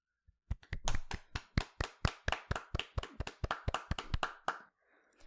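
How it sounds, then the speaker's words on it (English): Rhythmic hand clapping, about twenty crisp claps at a steady quick pace, close by, slowing and fading at the end. "Give a round of applause."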